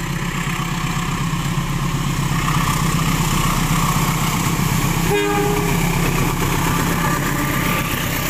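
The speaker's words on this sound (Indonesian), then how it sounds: "Kereta api lokal Cibatuan dari stasiun Cibatu menuju akhir stasiun Padalarang, persiapan meninggalkan stasiun Kiara Condong." Local passenger train on the Cibatu to Padalarang line leaving Kiara Condong station in Indonesia, with a steady loud rumble of engine and rolling cars and a brief horn blast midway.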